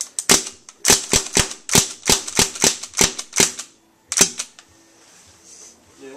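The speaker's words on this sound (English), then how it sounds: "the weapon is a Crosman 1077 17 caliber pellet rifle" A Crosman 1077 .177 caliber pellet rifle fired repeatedly at body armor in a destructive test: about a dozen sharp, loud cracks in a steady rapid rhythm, a brief pause, then one final shot and a faint tail.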